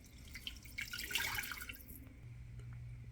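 Water pours into a pan of couscous and melted butter in a home kitchen, a faint splashing trickle that fades out after about two seconds, leaving a low hum.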